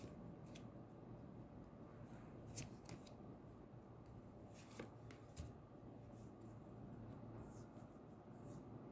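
Tarot cards are shuffled in a quiet room, producing soft continuous riffling and sliding with occasional sharper flicks and snaps, faint and close.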